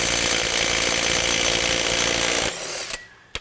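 A cheap Amazon impact wrench hammers on a Ford's wheel lug nuts in one loud, continuous buzzing run, then cuts off and a couple of sharp clicks follow.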